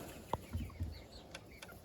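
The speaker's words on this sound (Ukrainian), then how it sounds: "І півники, і курочки." Young roosters and hens cluck softly and intermittently on a farm, a few short, quiet calls and low clucks scattered over faint background noise.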